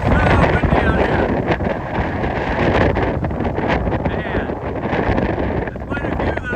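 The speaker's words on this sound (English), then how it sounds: "It is so windy out here." Strong wind blows across a black rock cliff on a mountain hiking trail, a loud continuous roar with heavy gusts buffeting the microphone. A voice is partly heard under the wind.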